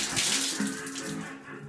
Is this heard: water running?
yes